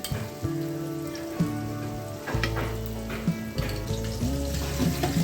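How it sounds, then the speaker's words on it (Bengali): Fish fries in hot oil in a pan, a loud, close sizzle with bursts of spitting and crackling under steady low stove hum, with no talk. "এই তো আমার মাছ ভাজি হয়ে গেছে"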